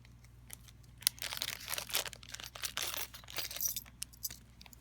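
Small plastic charm bag being opened by hand, giving bursts of close crinkling and rustling with light clinks of small metal charms, no talking.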